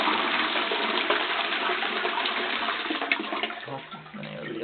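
A toilet flushes with dry ice in the bowl, a loud continuous rush of gushing water with churning, bubbling turbulence that tapers slightly toward the end.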